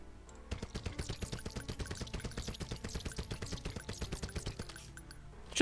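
Rapid automatic gunfire in the zombie shooter game The Walking Zombie: a loud, close, continuous rattle of shots firing in quick regular succession for several seconds, with no voices.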